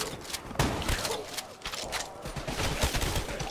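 Gunfire in Call of Duty Zombies Chronicles on the Moon map: repeated bursts of shots with short gaps, sharp cracks and low thumps at close range, steady and insistent.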